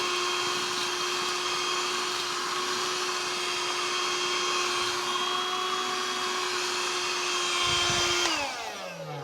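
A Hoover Jovis+ handheld vacuum cleaner runs with a steady, close, high-pitched whirring whine for about eight seconds, then winds down as it is switched off.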